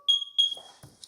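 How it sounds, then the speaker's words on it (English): A smoke detector fire alarm sounds in a home, two sharp piercing high beeps in quick succession, followed by brief rustling and a faint third chirp. "Oh, my fire alarm's going off."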